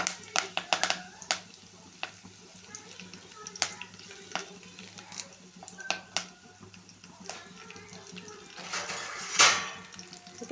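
Curry leaves drop into a hot pan with cumin, mustard seeds, urad dal and green chillies for an egg gravy, then get stirred; soft sizzling with scattered utensil scrapes and clinks, one sharper crackle near the end.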